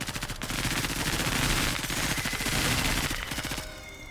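Sustained bursts of gunfire in the tactical game Menace hammer out in a fast, loud rattle for several seconds, then cut off and leave a quieter electronic tail.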